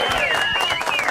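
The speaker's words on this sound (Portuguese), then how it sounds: "Uma salva de palmas." A crowd applauds with dense, steady clapping that lasts the whole moment, welcoming a guest to a Brazilian talk show, with a few bright whistle-like tones threaded through.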